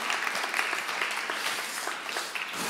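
A church congregation applauds loudly and steadily, a dense wash of clapping that holds for the whole stretch with no talk over it.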